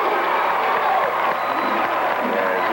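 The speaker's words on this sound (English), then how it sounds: "As you may tell by the crowd response in the background, he nailed the first one home" High school basketball crowd in a gym cheering and clapping after a made free throw, a loud sustained roar of voices filling the space.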